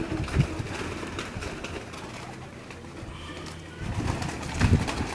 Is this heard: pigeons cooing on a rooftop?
yes